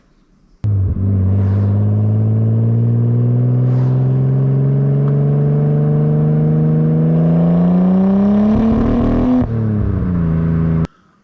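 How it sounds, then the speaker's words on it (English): An R33 Nissan Skyline engine revs steadily upward under acceleration, rising in pitch, then misfires under high load, stumbling and dropping briefly before settling; loud and close, no talking. "the car has been breaking down under high load, and this is what it sounds like."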